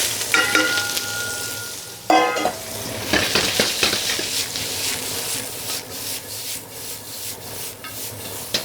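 Chopped onion hits a very hot wok for black pepper beef stir fry, giving an abrupt loud sizzle followed by steady frying hiss and repeated scraping, stirring strokes of a spatula, close and without talk.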